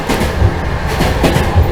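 Passenger train running across the desert from Nukus in Uzbekistan towards Aktau in Kazakhstan, a loud steady rumble from inside the carriage with rhythmic clickety-clack of wheels over rail joints.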